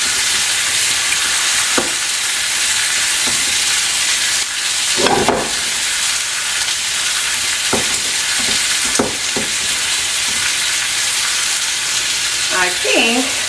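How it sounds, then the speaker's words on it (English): A zucchini, cheese and breadcrumb mixture is stirred in a bowl, giving scattered soft scraping and squelching strokes over a constant hiss, with a few louder wet stirs spaced apart. "stir together our zucchini, cheese, breadcrumbs"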